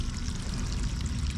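Water pours down steadily in a thick, continuous gush during field irrigation of a bitter gourd and eggplant farm, filling the whole moment without speech.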